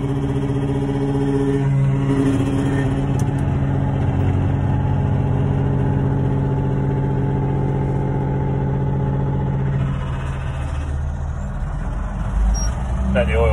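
A farm tractor engine idles steadily after a drive, its low mechanical drone running close and loud throughout and dipping slightly near the end, with people talking over it.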